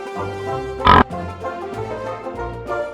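A pig grunts and oinks in quick, close bursts, with one sharp, louder squeal near the start and low snuffling grunts on either side.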